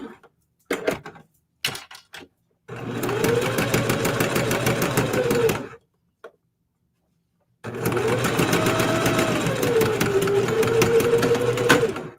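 A Singer HD sewing machine stitches fabric letters in two long, loud runs of rapid steady whirring, with short clicks and handling sounds and a silent pause between them.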